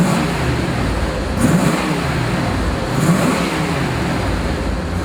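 A 1985 Chevrolet Corvette engine rumbles close by, swelling in two gentle revs over a steady low drone, with no talk.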